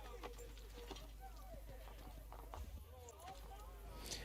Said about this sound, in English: So now we just need to get on the horse and follow him to the third location.